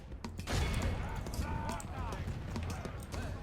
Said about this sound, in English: these musketmen are taking a pretty decent shot against these guys